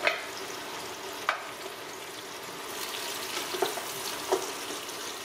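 Peppers sautéing in a pan for Hungarian lecsó give a steady close sizzle with faint stirring scrapes and a few soft clinks, no talk over it.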